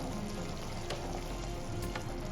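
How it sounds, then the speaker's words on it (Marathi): Sugar syrup for rava besan laddu boiling hard in a pan on high flame, a steady dense bubbling sizzle with a few sharper pops, close and continuous throughout. "तुम्ही बघू शकता बबल्स यायला सुरुवात झाली पाकावर"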